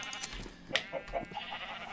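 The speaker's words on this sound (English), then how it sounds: "you sheep, you're somewhat strange up here" Sheep bleating: a few faint, short bleats, somewhat distant, over quiet background sound with no speech.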